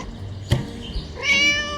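A cat meows in the video game Scary Teacher 3D, one clear, rising call near the end after a short thump, standing out alone over a low hum of game background noise.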